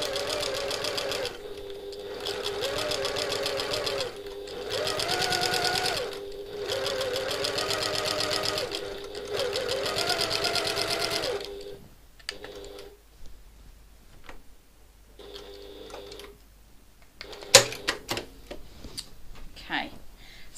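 A sewing machine top stitches the base of a satchel an eighth of an inch from the seam in several close, loud bursts of rapid stitching, then quieter clicks and handling noises follow.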